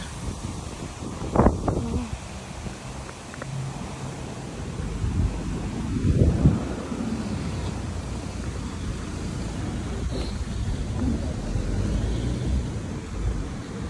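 Steady outdoor wind rushes and buffets the microphone, with low rumbling gusts and faint background sounds, no talking.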